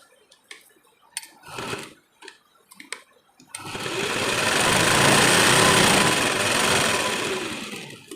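A sewing machine stitches a blouse: short bursts of rapid mechanical ticking at first, then a long continuous whirring run of stitching that swells and fades, close and clear.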